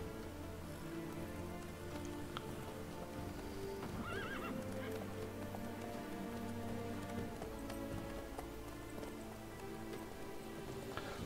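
A horse in The Witcher 3: Wild Hunt whinnies and neighs while its hooves clip-clop steadily, set against a constant patter of rain.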